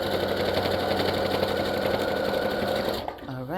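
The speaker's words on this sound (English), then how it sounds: "get the ribbon, get the fringes, and we zigzag stitch." A sewing machine runs a zigzag stitch, attaching ribbon and fringe to a cut-down long dress, with a loud, steady, close whir for about three seconds before it stops and a voice follows.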